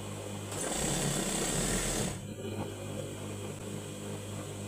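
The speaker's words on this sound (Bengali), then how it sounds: "দেখুন এভাবে আমি চাপ সেলাই দিয়ে দিব।" A sewing machine runs a straight seam on fabric for a six-panel, round-neck dress. It whirs loudly and steadily for over a second, then keeps going at a lower, even hum with no voices.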